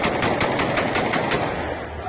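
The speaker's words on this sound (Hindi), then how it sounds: "हमने नाजरीन को भी हवाई फायरिंग की आवाज सुनवाई है" Police fire rapid bursts of gunshots into the air during a news report, a fast string of loud, cracking shots that stay fairly close and sound a little muffled.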